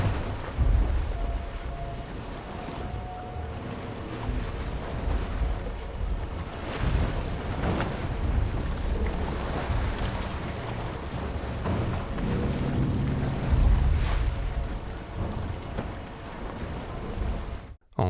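Open ocean at sea from the film All Is Lost, with waves washing and surging against a sailboat under steady wind noise, a continuous rolling wash that swells and recedes, no voices.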